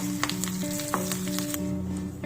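Dried red chili and curry leaves sizzle in hot tempering oil, a steady, moderate frying hiss with a faint tonal hum and occasional sharp crackles, growing quieter toward the end.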